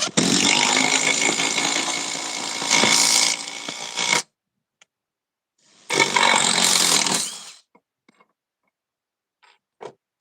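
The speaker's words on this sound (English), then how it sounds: "For a compact impact driver, this thing has some beef." A compact impact driver sinks a 4-inch Spax timber lock screw into wood without a pre-drilled hole, making two loud, close, hammering rattles: a long burst of about four seconds, then a pause and a shorter final burst.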